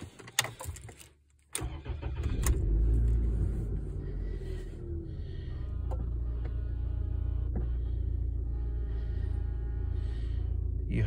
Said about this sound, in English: So now we will try to start the car up again